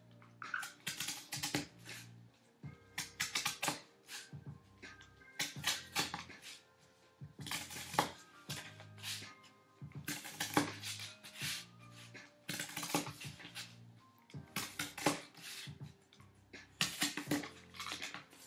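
A blade scores half cuts into foam-like craft material for building prop spikes, giving short scraping strokes repeated about a dozen times in an irregular rhythm, fairly quiet and close.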